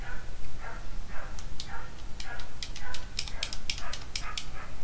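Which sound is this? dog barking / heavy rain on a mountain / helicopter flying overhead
dog barking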